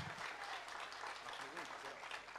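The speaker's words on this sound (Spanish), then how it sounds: "Fuerte el aplauso, despidiendo las palabras." Applause rises from guests at a fundraising dinner after a candidate's speech, a dense, steady clatter of many hands filling the whole stretch, with voices mixed in beneath it.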